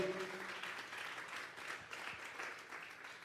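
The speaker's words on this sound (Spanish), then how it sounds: "Vamos a darle una ofrenda de palmas a Dios." Church congregation at a Sunday service clapping together as an offering to God, a quiet, distant wash of many hands sustained for a few seconds, with a brief tonal sound at the very start.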